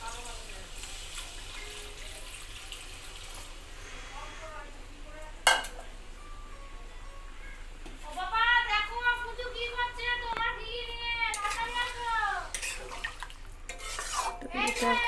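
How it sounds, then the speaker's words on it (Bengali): A pot of mutton curry is stirred after water is added, with a spoon scraping and clinking against the pot and a sharp knock partway through. Someone speaks over it, and her voice grows clearer toward the end. "মাংসটা প্রায় জলটা একদম শুকিয়ে গেছে, তাই আমি একটু মশলাটা কষানোর জন্য জল দিয়ে দেবো।"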